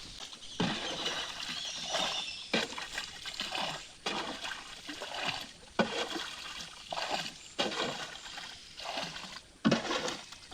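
A small rowing boat moving on water in a village creek during traditional crab catching: rhythmic splashing and dripping paddle strokes about once a second, near and moderately quiet, with no talk.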